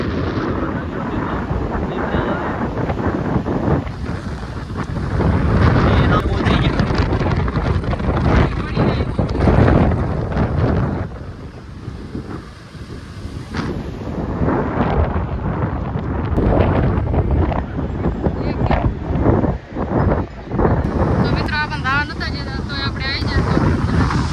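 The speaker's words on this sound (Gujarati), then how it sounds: "મિત્રો આપણે દરિયા કિનારે પહોંચી ગયા." Strong wind buffets the microphone at the seashore near Dwarka, with rolling waves and surf underneath, loud and continuous with gusty swells throughout.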